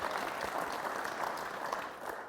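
A live audience at a community kitchen event claps steadily, a dense crowd of hands patting evenly throughout the short burst without a clear start or stop, no voices over it.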